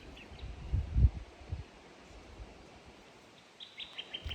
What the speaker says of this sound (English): Some nice birds serenading me, which is very sweet.